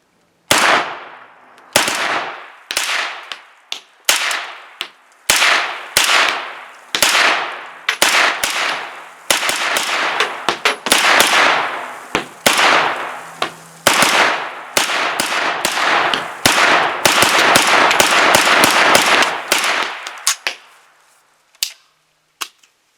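A Kalashnikov-USA KR9 fires at a shooting range in a long string of sharp, loud, closely spaced shots, each ringing out briefly before the next, the pace quickening toward the end before a few final isolated rounds.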